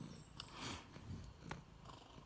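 A pet cat purrs steadily and softly at close range, a low rumbling pulse with small clicks and rustles and no talk.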